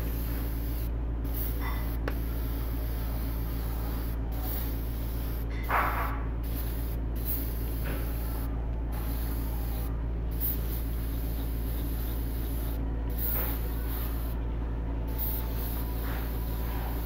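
Repeated short hisses of transparent paint misted from an airbrush onto a model, close and fairly quiet, in bursts of a second or so separated by pauses, over a steady low electrical hum.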